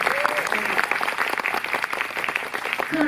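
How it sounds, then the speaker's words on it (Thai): Lively audience applause at a press conference for a stage musical, brisk dense clapping that runs throughout, with voices briefly audible within it. "ขอเสียงปรบมือคุณนัททิวเลยค่ะ"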